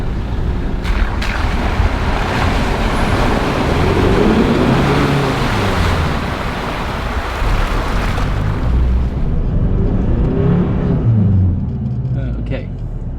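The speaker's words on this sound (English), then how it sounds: "I'll go rear lock around second gear to give it a bit of power" 4WD towing a trailer through a mud hole in Barrington Tops National Park in rear lock and second gear, a loud, sustained engine rumble with sloshing and splashing, while someone talks over it.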